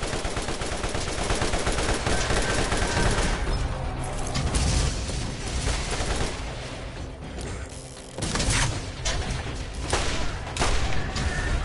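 Fire pistol gunfire in the Borderlands video game, rapid dense bursts of shots with booming impacts, loud and nearly continuous, dipping briefly twice before resuming.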